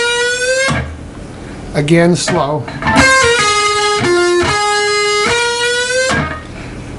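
An electric guitar plays a lead lick slowly, with clear sustained notes and pitch bends. Short bursts of speech break between the phrases.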